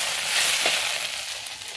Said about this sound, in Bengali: ঠিক আছে বন্ধুরা, ঢেঁড়সটা ভেজে নিই।